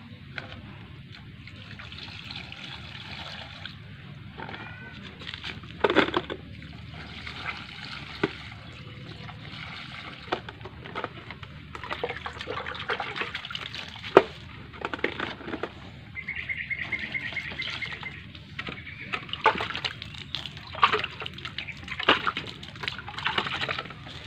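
Water splashes and trickles steadily onto the foliage and soil of a potted bonsai for a long stretch, with intermittent pattering bursts and faint background noise.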